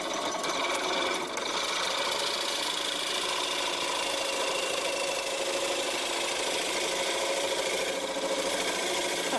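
A wood lathe whirs steadily as a homemade bowl gouge makes inside cuts in a turning bowl, a continuous loud scraping hiss that never pauses.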